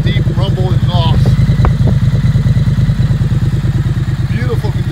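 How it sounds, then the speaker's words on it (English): A 2019 Triumph Street Twin motorcycle idles close by with a deep, loud, steady exhaust rumble, its pulsing beat continuous throughout with a few brief clicks and a light whine on top. "Listen to that deep rumble exhaust."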